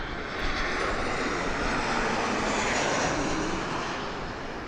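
An airliner passes by at Las Vegas Harry Reid International Airport, its engines giving a loud, broad, steady roar that swells slightly and then eases, with no voices.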